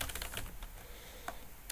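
Quiet, close keystrokes on a computer keyboard while C code is written, arriving in short irregular bursts with a few sharper clicks and gaps between them.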